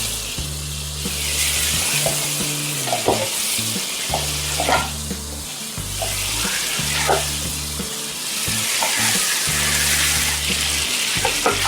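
Goat trotters for mutton paya fry in a pan with a steady, close sizzle, while a repeating low droning hum pulses underneath throughout.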